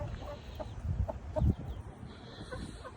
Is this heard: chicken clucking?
yes